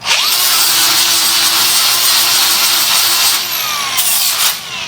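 A bench grinder deburrs titanium bicycle parts in one loud, close, continuous high whine and harsh grinding rasp that eases slightly near the end.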